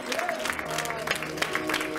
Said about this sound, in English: just let's give the Lord a hand clap.